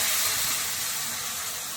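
Onion, ginger and garlic paste hits hot oil in a pan, giving off a loud, bright, continuous sizzle and hiss that fades only slightly over its short run.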